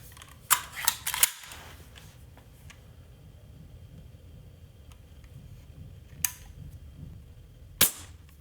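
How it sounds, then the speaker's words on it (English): A Daisy Model 25 BB gun fires standard 5.1-grain Umarex steel BBs during velocity testing. Sharp, close snaps come in a quick cluster of three, then a lone shot, then another after a pause, each followed by quiet. "Model 25 velocity testing with standard Umarex steel BBs"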